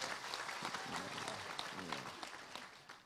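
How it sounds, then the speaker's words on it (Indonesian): A crowd at an Indonesian religious gathering breaks into applause for a guest, with dense clapping heard alongside some voices talking over it. "tepuk tangan kagem Gusipang niki"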